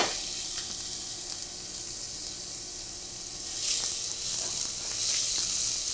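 Onions sizzle in olive oil in a medium pan, a steady close hiss that swells as they are stirred, with no voices.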